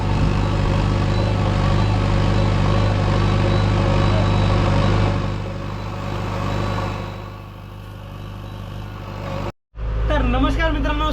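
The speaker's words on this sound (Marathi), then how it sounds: "हे बघा आता JCB 3DX मॉडेल चालू राहिलो आज" A JCB 3DX backhoe loader engine idles with a steady, loud mid-pitched drone, a brief cut near the end, then the rumble resumes with other sounds over it.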